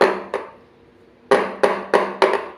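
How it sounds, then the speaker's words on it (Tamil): A cake pan filled with raspberry cake batter is tapped on a hard surface to level it, giving a few sharp, resonant knocks: two early taps, a pause, then four evenly spaced ones close by. "இப்போது இதை நல்லா டேப் பண்ணிக்கிறேன்"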